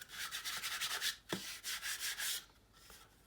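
Reclaimed pallet wood pieces are sanded by hand in a run of quick, rhythmic rasping strokes, close and fairly quiet, with a short pause partway before the scraping resumes and fades.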